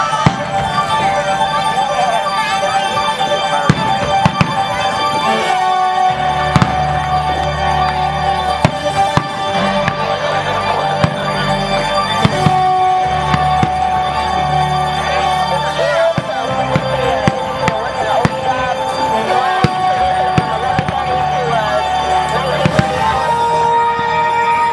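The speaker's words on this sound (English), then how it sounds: "there goes the cannon." A cannon fires during the Gasparilla fireworks night, with repeated booms and crackling bursts throughout a long stretch of show noise. People talk faintly nearby.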